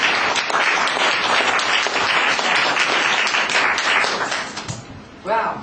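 A church congregation applauding, a dense sustained round of clapping filling the room, tapering slightly near the end as a voice comes in.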